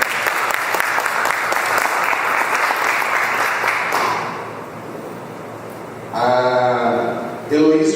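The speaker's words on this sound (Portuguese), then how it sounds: "Salve de palmas." Conference audience applause at a startup ecosystem panel, a steady wash of clapping for about five seconds that fades, then a voice speaks over the room.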